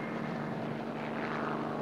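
A helicopter flies overhead, a close, steady rumbling rotor-and-engine drone with a broad roar and no voices.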